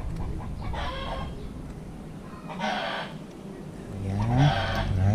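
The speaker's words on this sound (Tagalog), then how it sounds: "ingay naman ng manok" Chickens cluck and a rooster crows in an outdoor setting, the crows rising in repeated bursts over a steady bed of clucking and farmyard noise, fairly close and loud.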